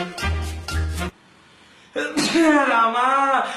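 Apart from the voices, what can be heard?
sneeze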